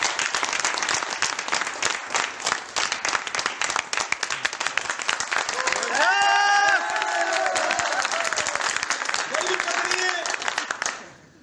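Audience applause at a business seminar on direct selling, dense clapping running steadily throughout, with a patch of voices or whistles midway and fading out at the end.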